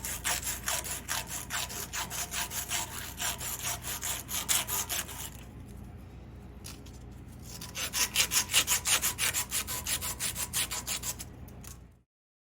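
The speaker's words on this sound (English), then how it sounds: "Repeat the process on the bottom arm, first deburring with emery cloth" Emery cloth rubbed back and forth on the metal bottom arm of a catalyst bypass rod on a Clydesdale, a close, steady run of rasping strokes that pauses briefly midway and then resumes more strongly.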